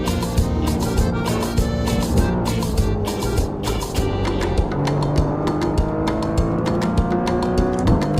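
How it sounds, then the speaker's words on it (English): A Porsche race car in a racing video game runs loud and steady, its engine droning and rising through gear changes with a sharp, buzzy whine, continuous from start to finish. "I just need to get more practice with this Porsche"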